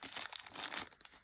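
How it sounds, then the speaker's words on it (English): Close, crinkly rustling of a plastic bag being handled and pulled open to unbox a Sonokong Phantom Orion Beyblade toy, a quick series of soft crackles lasting about a second. "let's break this thing out of its plastic bag"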